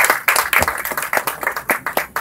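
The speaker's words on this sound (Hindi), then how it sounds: "कम ऑन एवरीबॉडी, जोरदार तालियां बजाएं यहाँ पे" Audience at a movie trailer launch claps for the film's producers, a loose, uneven round of distinct claps with clear individual hits and pulses rather than a smooth wash.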